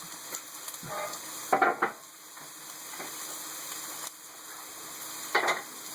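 Extra jalapenos cooking for carnitas tacos sizzle steadily in a pan while a utensil scrapes and stirs them in several distinct bursts, loud and close, with no talking.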